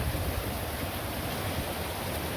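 Heavy rain pours down steadily with wind, a dense even hiss that stays loud and constant throughout with no talking.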